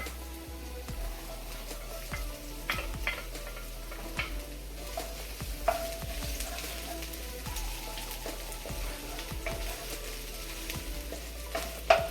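Garlic frying in a pan for curried mango, a soft, steady sizzle with occasional stirring scrapes and ticks, moderately quiet and with no voices.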